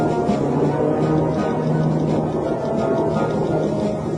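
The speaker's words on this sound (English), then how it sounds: "Even at night, the roar of the jet shattered the silence of the desert." A jet roars during a nighttime test flight in the desert near Area 51, a loud, steady, unbroken rumble with a deep tonal hum running beneath it.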